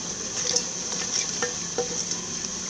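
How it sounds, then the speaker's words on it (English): Vegetable stew stirred in a pot on the stove, with soft scraping and light patter under a steady simmering hiss, a few brief spoon knocks standing out near the middle. "You need to stir it a little and allow it to cook for 2 minutes before adding your meat"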